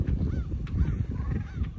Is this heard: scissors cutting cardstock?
no